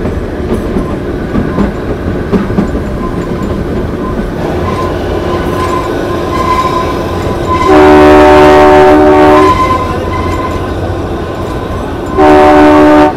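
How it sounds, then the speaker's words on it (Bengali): Kalka–Shimla toy train rolling along a winding mountain track, a loud steady rumble and rattle of carriages with two long, strong horn blasts near the end, and no voices. "ট্রেন কিন্তু এইরকম আঁকা বাঁকা পথে এগিয়ে চলেছে সিমলার উদ্দেশ্যে।"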